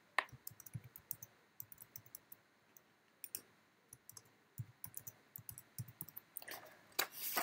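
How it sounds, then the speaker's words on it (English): A computer keyboard being typed on to enter a password, producing a steady run of quiet, close key clicks in an irregular rhythm, with a few louder presses near the end. "type in the password, all in lowercase, junior74"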